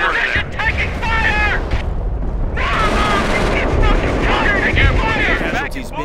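Gunfire and artillery in Company of Heroes: a dense, continuous battle din of rattling shots and heavy booms filling the whole stretch, with shouted soldier voices layered over the noise.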